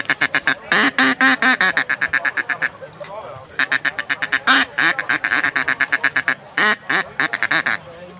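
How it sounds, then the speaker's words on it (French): A female mallard duck calls in loud, close runs of rapid quacks, each burst a string of harsh nasal notes separated by short pauses, repeating across the whole stretch. "Ça, c'est le canard colvert."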